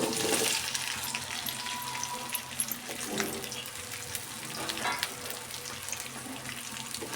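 Okra frying in a generous amount of oil in a pan for sambar gives off a steady, dense sizzle with faint crackles throughout, close up, with no talking.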